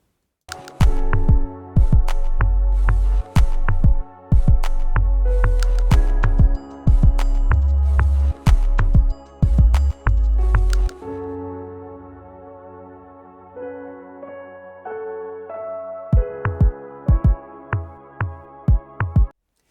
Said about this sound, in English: It's a nice, creepy, dark sort of beat.